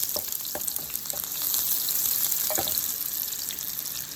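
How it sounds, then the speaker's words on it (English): Fresh garlic and onion sauté in a pan with a steady, close, loud sizzling hiss, punctuated by a few light clicks of a utensil stirring, with no voices. "gonna add in some fresh garlic and onion. All right. We're gonna saute these up."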